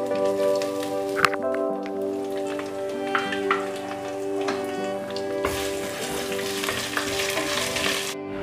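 Crushed garlic, ginger and curry leaves sizzle steadily in hot oil for rasam, a dense crackling frying hiss with a few sharper pops and a brighter burst of spitting near the end, with no talking.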